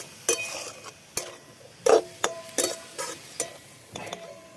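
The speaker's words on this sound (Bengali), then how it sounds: "এবার এটা একটু ভাজা ভাজাবো" Momo filling with tomato sauce and chopped tomato sizzles and gets stirred in a pan, with repeated sharp spatula knocks and scrapes coming every half second or so.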